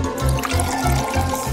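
Water poured for mixing paint, heard as a loud, close liquid gurgle with rhythmic sloshing pulses, running steadily and alone.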